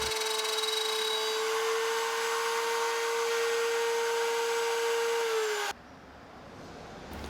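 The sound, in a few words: router with straight spiral bit cutting a groove in wood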